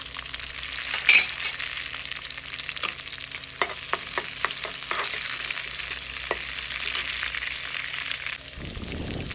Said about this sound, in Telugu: కరివేపాకు ఎల్లుల్లిపాయలు కొద్దిగా వేగాక తోటకూర కాడలు వేసేయాలి